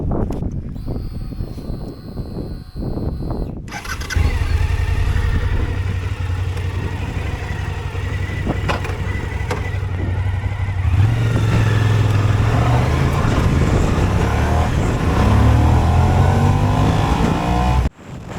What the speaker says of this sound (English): the camera caught a lot of wind noise on the ride